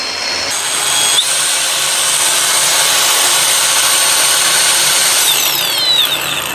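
A 4-inch electric angle grinder with adjustable speed runs steadily in a shop, a loud continuous high-pitched whine with slight pitch shifts and no talk.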